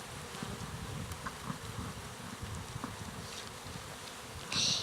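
Honeybees hum in a steady, soft, continuous buzz at a hive during an inspection, with a louder bee passing close near the end.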